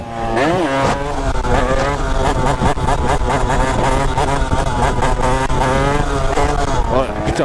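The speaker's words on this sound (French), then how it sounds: "je suis en train de défoncer ma boîte à passer les vitesses sans embrayer moi" A 70cc moped fitted with an Airsal kit revs hard and is shifted through its gears without the clutch, the engine note rising and dropping steadily and loudly close by, with continuous harmonic whine throughout.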